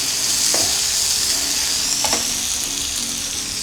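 Onion chutney mixture with tamarind stirred in a hot pan, loud continuous sizzle up close with two distinct scrapes of a spatula against the pan, no voices.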